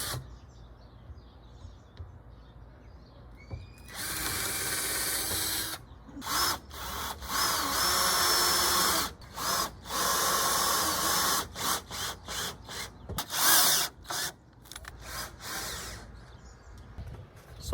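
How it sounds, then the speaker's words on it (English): Power drill boring screw holes into wooden deck boards on a backyard cat patio deck, heard as a series of loud, close drilling bursts of varying length with short pauses between them. "I can tuck these right up against each other and drill my holes for my screws."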